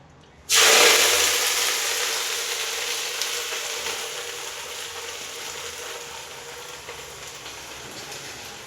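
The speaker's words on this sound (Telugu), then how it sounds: "ఫస్ట్ గోంగూరని ఆయిల్లో ఫ్రై చేసుకోవాలి" Gongura leaves drop into hot oil with a sudden loud hiss that settles into a long, steady sizzle, slowly fading as the frying continues on its own.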